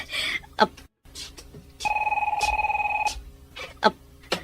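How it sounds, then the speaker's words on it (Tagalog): A telephone bell rings in one sustained burst of rapid trilling in a quiet room, with short bits of speech before and after it. "Ti telepono."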